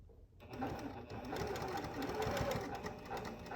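A sewing machine with a ditch foot stitches a quilt seam along a marked line. After a brief silent start it runs as a close, steady, rapid whirring hum that continues to the end.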